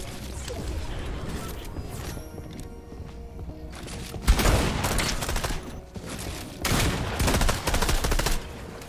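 Gunfire in the video game Fortnite, with repeated shots and bursts over busy game noise, with a sharp blast midway and louder volleys toward the end, while a player talks in Russian.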